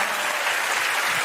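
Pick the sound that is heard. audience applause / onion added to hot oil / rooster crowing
audience applause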